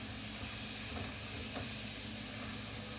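Ground prime beef and onions sizzle steadily in a hot pan, a close, continuous frying hiss with no pauses.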